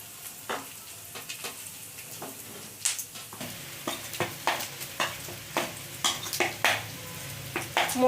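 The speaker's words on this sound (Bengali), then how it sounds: "এদিকে চিকেনটাও কষানো হয়ে গেছে" Chicken sautéing in a pan for chicken rolls, a steady sizzle and frying hiss broken by repeated sharp scrapes and stirring clatters of a utensil against the pan, close and fairly loud, with no talking.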